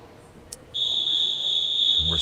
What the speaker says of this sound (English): That whistle means swimmers be prepared